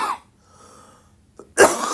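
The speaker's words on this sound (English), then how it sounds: "that was not as productive a cough as it could have been." A single cough from one person, a short burst at the start, then quiet breathing, followed by a louder throat-clearing cough near the end.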